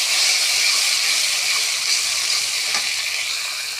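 Chopped tomato stirred into rohu fish curry in a pan, a bright, steady close sizzle with faint scraping from slow stirring, holding nearly level the whole time.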